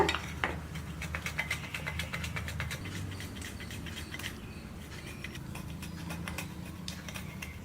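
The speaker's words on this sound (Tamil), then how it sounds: "இந்த மாதிரி காய் சீவுறது இருக்கு இல்லைங்களா, அதில் வச்சு நல்லா சீவிடுங்க" Cashew nuts being grated on a vegetable grater, a rapid run of short scraping strokes over a low background hum, close and fairly steady with no talk.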